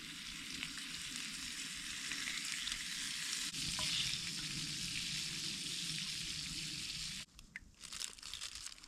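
Bacon fries in a pan at a snowy, sub-zero campsite in Swedish nature, a steady close crackling sizzle with small pops and a brief scrape near the end, fairly quiet overall.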